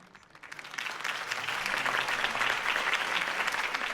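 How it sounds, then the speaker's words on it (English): A video game crowd in Batman: The Telltale Series bursts into applause that swells quickly and holds steady, dense clapping filling the space. "If only Mr. Wayne, my campaign's largest backer, could have heard that applause"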